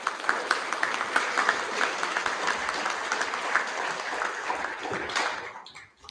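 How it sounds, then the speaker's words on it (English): A school hall audience applauds students at a Year 11 prize giving assembly, steady clapping from the crowd that carries on before fading out near the end. "Round of applause for these students"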